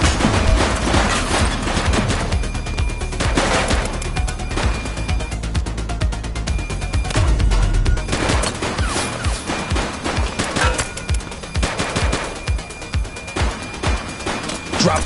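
Gunfire in The Precinct police game, a loud, sustained barrage of overlapping shots and impacts that thins into scattered individual cracks toward the end, with no talk.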